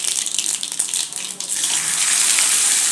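Chopped potatoes hit hot oil with popped mustard seeds and cumin for Kolhapuri misal, giving a loud rushing sizzle that swells and settles into a steady frying hiss.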